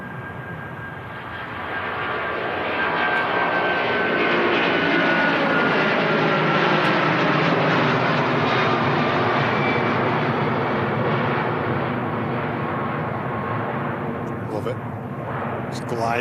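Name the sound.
Airbus jet airliner taking off at Manchester Airport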